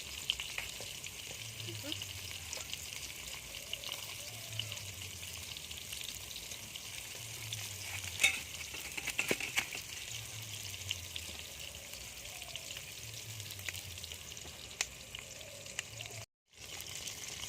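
Fish sizzling and frying steadily in a hot pan, a continuous bright crackle with occasional stirring clicks, close and even throughout.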